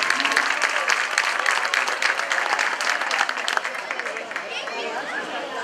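Audience applause at a children's Christmas festival at a ludoteca in Cadreita, following a dance performance: dense, steady clapping from a crowd with some chatter, sustained throughout and tapering slightly toward the end.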